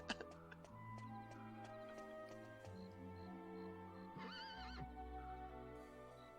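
In the Dragon Quest VIII video game, a horse gives a clear whinny over gentle background music with light clip-clop and ticking effects, fairly close and prominent.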